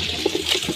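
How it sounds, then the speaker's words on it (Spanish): Water from hand-washing laundry running off outdoors toward small trees, a short close splashing and trickling with a few soft gurgles, heard alone. "Para todos estos arbolitos se va el agua."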